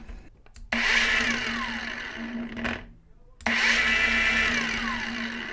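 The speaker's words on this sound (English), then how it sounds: "So you can see, random orbital polisher, very useful tool." Ingco cordless random orbital polisher whirring in two loud bursts, each spinning up sharply to a steady high-pitched hum, with a brief slowdown between them.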